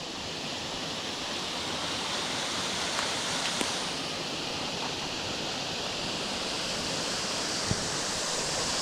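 Wolfclough waterfall in Craik Forest pours in a dense, unbroken roar, steady and fairly close throughout, with a few faint clicks over it.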